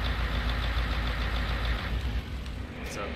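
An 8970 tractor idles in Farming Simulator 19, a steady, close, low diesel rumble that holds level throughout with no breaks.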